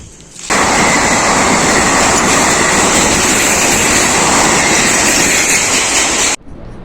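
A train roars by loudly at close range, a sustained rushing rumble with rattling wheels that starts abruptly and cuts off near the end.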